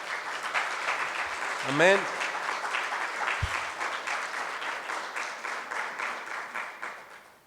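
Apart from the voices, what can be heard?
congregation applauding in church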